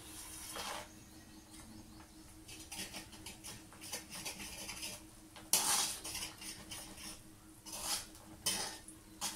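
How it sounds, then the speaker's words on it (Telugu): Makhana kheer made with milk and sugar is stirred in a pot, with a spoon scraping and clinking against the metal at an uneven rhythm. The sounds are quiet and close, and no one speaks. "అడుగంటకుండా మధ్య మధ్యలో కలుపుతూ ఉండాలి"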